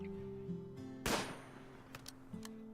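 A single rifle shot from a colonist hunting in Rimworld cracks out once, sharp and moderately loud, over steady game music tones.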